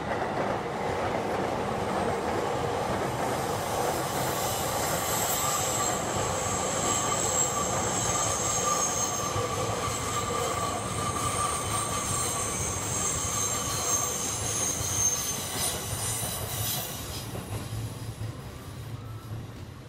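A brown 2000 series train passes close by with a long, steady rumble, rhythmic wheel clatter and high squealing wheels, fading slightly at the end.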